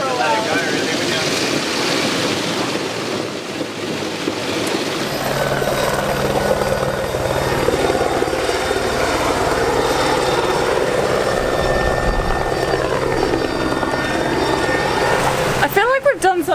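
A low-flying aircraft, likely a helicopter, circles close over a sailboat at sea, its steady engine drone swelling and holding loud throughout while people talk nearby.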